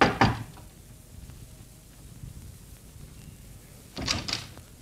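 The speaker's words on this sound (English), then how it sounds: "But instead, he knocked." Knocking on a door as a 1952 radio drama sound effect: a short burst of knocks at the start, a quiet pause, then another close, fairly loud cluster of raps near the end, with no voices.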